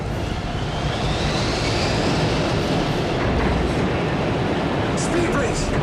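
A landing airplane's reverse thrusters roar just after touchdown, a loud, steady broadband rush that fills the whole clip, with voices calling out over it.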